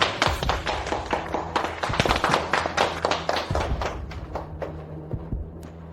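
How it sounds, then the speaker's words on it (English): An office audience at a company announcement gives a round of applause, close, crisp claps that build into a dense burst and then thin out to scattered last claps. "Let's give her a round of applause."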